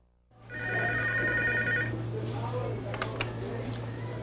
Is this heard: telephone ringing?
yes